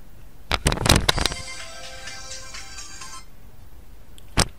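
A phone ringtone in Need for Speed: Underground 2 plays a short bright melodic jingle after a few sharp clicks, close and clear, then stops, followed by one more click.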